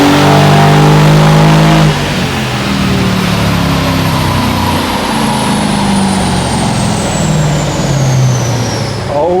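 A Brabus E63 AMG engine revs hard on a dyno during a pull, a loud, close, rising roar that climbs steadily in pitch across the run with a brief lift early on, alone without talk.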